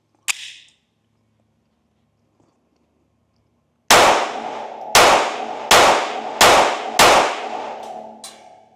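Unsuppressed gunshots from Winchester Super Suppressed subsonic ammunition in a P322 pistol: one sharp report, a pause, then six loud, evenly spaced cracks with short ringing tails, close by.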